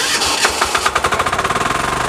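Power weeder rotavator's small engine starting up, a few sputtering pulls that quickly settle into a fast, even chugging putter, loud and close.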